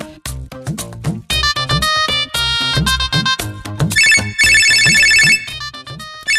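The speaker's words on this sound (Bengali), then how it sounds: "দেখি কে কল দিল, আমি রিসিভ করি।" An incoming call on a mobile phone plays a loud, bright electronic ringtone melody with a steady beat, brighter tones in the second half, close and clear with no voices over it.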